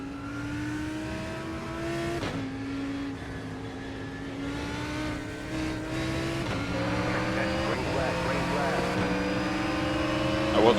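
GT3 race car engines in the iRacing sim at Summit Point, a continuous droning engine note rising and dropping through gear shifts, loud and sustained with a player talking over it.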